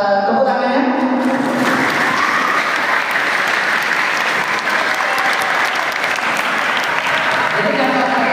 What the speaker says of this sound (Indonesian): Oke, selamat tepuk tangannya.